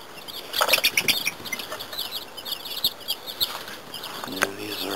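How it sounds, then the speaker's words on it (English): Laying hens in a chicken yard chirp and cluck in scattered short bursts with some wing flapping, moderately close under a steady outdoor background, with no talk. "all kinds of laying hens in here."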